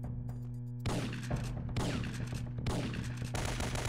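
Gunfire in the video game Syphon Filter 3 comes in rapid bursts of crackling shots, loud and dense, with a low steady game hum underneath and brief gaps between volleys.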